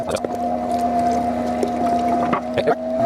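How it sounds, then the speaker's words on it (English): Meat grinder working through smoked maple sausage meat, a steady motor hum with a constant drone, punctuated by irregular clicks and knocks close by. "Last little bit out of the grinder"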